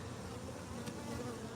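Wild bees swarming around an opened hive during honey extraction, a continuous close, dense droning buzz of many insects with no voices.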